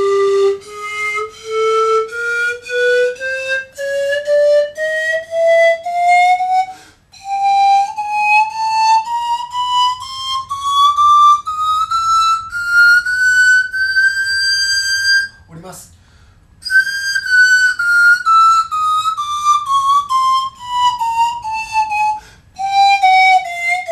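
A breathy wind instrument plays a slow chromatic scale, each note stepping up by a semitone, then after a brief break stepping back down.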